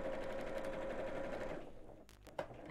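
A sewing machine stitches a fabric bag with a steady close mechanical whir, then slows and stops, leaving a few quick clicks at the end.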